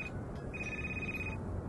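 A telephone keeps ringing inside the Crimson Snow video game, a brief chirp followed by one longer sustained electronic ring, steady and clear against a quiet droning backdrop.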